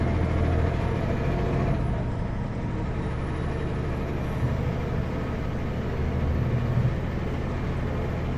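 A truck rolls along a highway between Burns Lake and Houston, British Columbia, its steady engine and road roar filling the cab during a brake check, with a faint hiss of air brakes and no talking.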